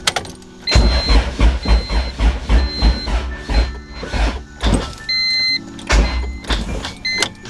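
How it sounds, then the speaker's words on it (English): A B20-swapped EK Honda Civic cranks on its first start with no headers fitted, giving a loud, close, rhythmic chug of the starter turning the engine over in repeated pulses, briefly pausing before cranking resumes. "So as soon as it started cranking, I kind of freaked out and I just cut the engine."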